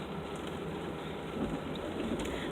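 Steady, dense rain pours down in cold weather, a constant hiss filling the whole clip with no voices.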